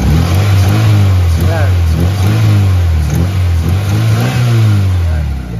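A Mitsubishi Lancer engine, suspected of loose compression and misfiring, is revved repeatedly with the throttle, loud close-up surges rising and falling over a low idle rumble, with a man's brief spoken word.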